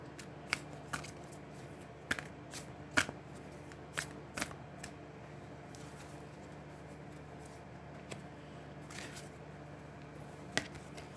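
Sacred Traveller oracle cards being shuffled by hand, soft papery riffles and sharp flicks and taps scattered irregularly across a quiet room with a steady low hum.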